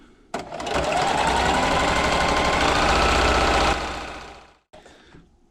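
Sewing machine running a straight seam on a fabric hair scrunchie, a loud, close, steady mechanical whir lasting several seconds before slowing and stopping, then a brief resumed burst.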